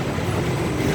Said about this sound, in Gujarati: ટ્રેન જઈ રહી છે